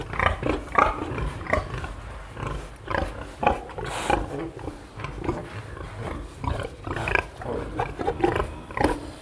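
Pigs on a farm grunt continuously, a dense, close, rough chorus of overlapping snorts and grunts with no pause.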